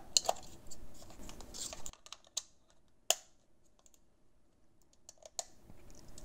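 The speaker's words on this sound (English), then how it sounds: "It's pretty much what I would consider a normal mouse click sound." A few sharp, close clicks ring out sparsely over a quiet background, with some soft rustling handling noise in between.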